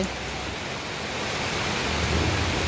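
Rain falls at an outdoor market stall, making a steady, dense hiss that stays loud and even from start to end with no voices.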